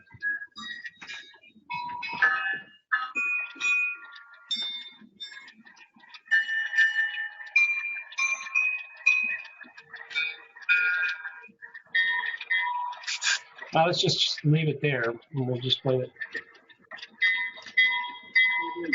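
A model train diesel locomotive bell from a TCS WOW Sound Kit DCC decoder rings in a steady repeating clang, fairly close and clear, with a brief spoken voice at the start and a talker's voice coming in toward the end.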